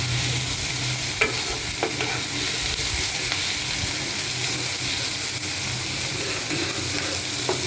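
Bitter gourd fries with green chilli and onion in a pan, a constant close sizzle overlaid with intermittent clicks and scrapes of stirring.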